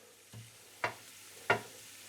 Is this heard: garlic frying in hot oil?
yes